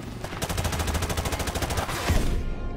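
Rapid automatic gunfire in the Modern Warfare Remastered campaign, a steady stream of close, loud shots at an even rhythm for most of the stretch, with a heavier blast near the end.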